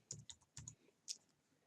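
Someone types on a computer keyboard, producing a few sparse, soft key clicks and taps close by. The clicks are irregular with short pauses between them, and no one speaks.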